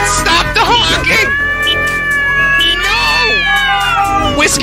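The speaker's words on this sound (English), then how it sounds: "Fucking cats, stop the honking!" Several cats meow and caterwaul loudly indoors in a continuous, overlapping string of drawn-out, wavering cries, with a person shouting over them.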